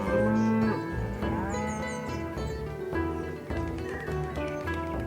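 Two dairy cows on a farm moo in long, loud, close calls over a steady rural background, with faint bird sounds between the lowing.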